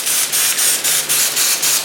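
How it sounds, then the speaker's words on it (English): Cooking spray misted from a distance onto flour-coated fish, a run of six short hissing bursts in an even rhythm, loud and close with brief gaps between them. "Cooking spray from afar, so when you spray it, the flour doesn't fly off too much"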